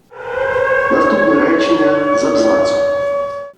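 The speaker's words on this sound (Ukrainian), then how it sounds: "Третій раз українці робили це під звуки повітряної тривоги." A loud, sustained air raid siren in Ukraine drones on one steady wailing tone, with a voice speaking faintly underneath.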